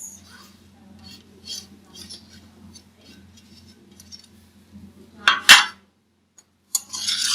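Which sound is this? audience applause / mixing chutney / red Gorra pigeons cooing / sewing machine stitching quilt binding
mixing chutney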